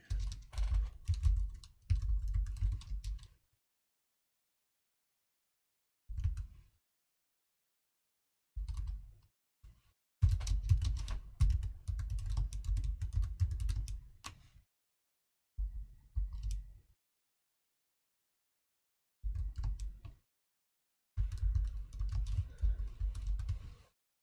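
Bursts of typing on a computer keyboard, dense clicking keystrokes in several separate runs broken by short silences, close and clear with no talking.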